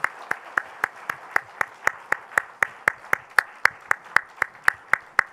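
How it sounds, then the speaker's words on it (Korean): A congregation at a church service claps to welcome guests, a clear, even rhythm of sharp hand claps repeating about four times a second, close and steady throughout. "우리 다시 한번 뜨거운 박수로 환영하겠습니다"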